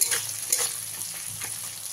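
Sliced onions frying in a pan over a medium gas flame for katla fish kalia, a steady close sizzle and hiss with a few light stirring scrapes throughout.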